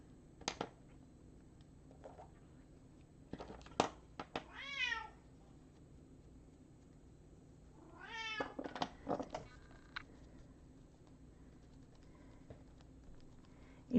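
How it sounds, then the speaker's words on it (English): A needy cat meows twice indoors, each a drawn-out, rising and falling cry a few seconds apart, amid a quiet room with scattered faint clicks and taps. "Anyone else have a needy cat?"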